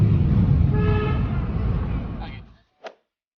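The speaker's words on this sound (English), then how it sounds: "You gotta honk through it though." A car horn sounds in one sustained honk during a long road drive, layered over loud road and engine rumble before the noise cuts off, followed by a brief faint click.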